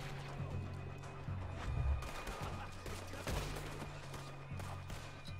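Cannon fire in Red Dead Redemption 2 on Guarma, a dense stream of rapid gunshots and crashes under steady low engine-like drone, moderately loud throughout with brief bursts standing out.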